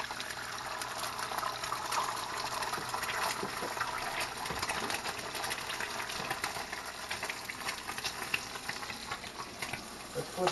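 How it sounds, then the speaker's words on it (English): Egg white poured into a hot oiled pan for a fried egg, giving a steady crackling sizzle of frying that holds evenly throughout at moderate level, with no talking. "We'll pour the white in."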